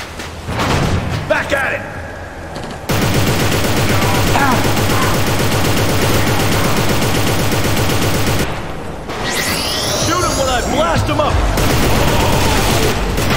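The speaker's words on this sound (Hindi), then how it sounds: "अरे ये बम की बरसात कर रहे हो वे" Explosions and heavy fire rain down in the video game Inversion, a dense, continuous barrage of booms and rapid shots, loud and close, with brief lulls between waves.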